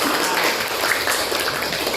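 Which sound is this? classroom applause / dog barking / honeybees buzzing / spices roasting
classroom applause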